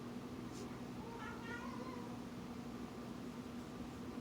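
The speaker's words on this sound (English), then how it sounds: "I don't know if you can hear my cats" Cats meow back and forth, two or three faint, short calls over a steady low background hum, with no speech.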